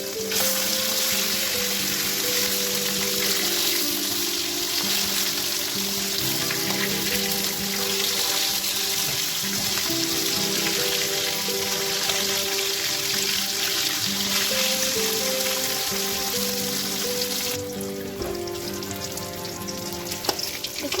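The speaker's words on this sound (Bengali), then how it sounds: "তেলটা ভালো করে গরম হলে আমি মাছগুলো ফ্রাই করে নেব।" Bhetki fish fry in hot oil in a pan, giving a loud, close, continuous sizzle that eases slightly toward the end.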